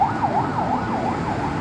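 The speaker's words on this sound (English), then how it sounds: "Yeah, more of the ambulances." An ambulance siren wails steadily along F Ramos Street near Velez Hospital, its rising and falling tone repeating in even cycles, loud and close over low street traffic rumble.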